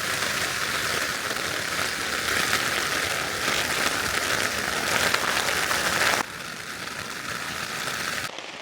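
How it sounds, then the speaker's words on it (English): Steady rain patters on a tent in the Lake District, a dense, even hiss of drops close around, softening abruptly partway through and continuing more quietly to the end. "there's nothing better than the sound of the rain on the tent"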